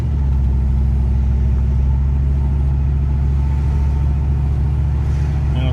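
Inside a truck driving along a road, a steady mid-pitched engine drone and road rumble hold constant for several seconds, with no speech.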